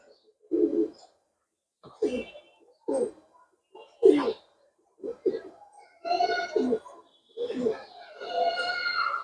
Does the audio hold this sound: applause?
no